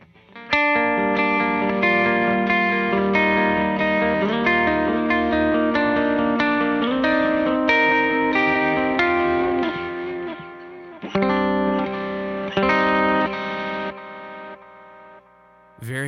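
Electric guitar played through Meris Mercury X and LVX effects pedals with gain changes, sustained distorted chords and notes with a chorus-like shimmer, close and steady, fading out at the end.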